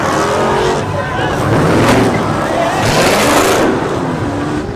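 A Dodge Charger with a 6.4-liter Hemi V8 accelerates hard on a highway, its loud, continuous engine roar swelling in waves with road and wind noise, while voices talk over it.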